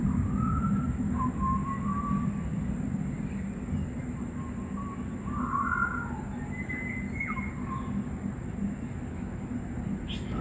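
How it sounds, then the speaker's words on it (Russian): Several birds call back and forth with short chirps and whistles in a city street in Gold Coast, Australia, over a steady traffic rumble. "Слышите, как птицы переговариваются?"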